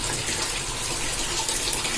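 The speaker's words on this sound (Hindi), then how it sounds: "ये मैंने नल बंद कर दिया ना तो सबका पानी इसमें आ गया" Water gushes steadily from a household tap into a container, a constant close, full-bodied splashing rush with no voices.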